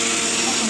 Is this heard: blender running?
yes